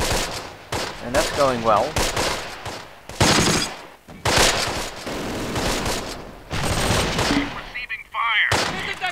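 Rapid bursts of rifle and machine-gun fire in the wartime Arnhem battle game Close Combat: Last Stand Arnhem, loud and repeated in clusters, with someone briefly speaking amid the shooting.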